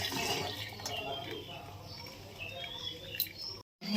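Excess water from boiled beetroot and potatoes poured out of a pot into a sink, a steady close splashing gush that cuts off abruptly near the end.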